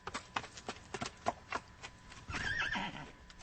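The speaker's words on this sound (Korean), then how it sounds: "짐수레를 끄는 말, 복서와 클로버도 자리를 잡고 앉았다" Horses whinny and neigh between clip-clopping hooves in an audiobook sound effect, a string of rhythmic hoofbeats followed by a longer, louder neigh, heard alone without voices.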